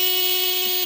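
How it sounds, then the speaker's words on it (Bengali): A vehicle horn blares in one steady, loud, close honk lasting under a second, heard alone. "হর্ন বাজাও, হর্ন বাজাও।"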